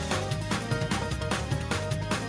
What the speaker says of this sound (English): I'm just gonna play it. This is shout music.